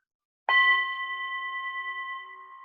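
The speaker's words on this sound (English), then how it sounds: "I'm just going to ring the bell to start" A single bell struck once, a clear bright ding that rings out with a long, steady, slowly fading tone in a quiet room.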